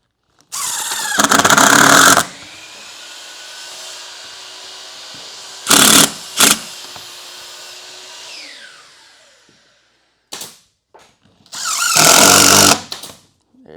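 A power drill drives a couple of screws into a recessed wooden panel, giving loud high whining bursts of a few seconds each with short quieter blips between and a low hum in the pauses.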